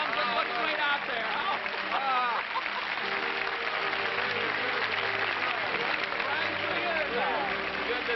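A studio audience at a live television show applauds continuously and loudly, while someone speaks and music plays over the clapping throughout.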